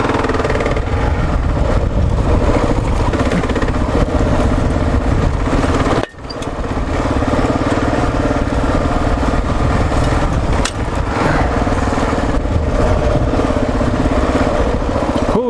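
A Kawasaki KLR650 single-cylinder motorcycle ridden off-road through desert washes and dirt, its engine droning loud and close almost continuously, with a sharp momentary drop near the middle and wind roar mixed in.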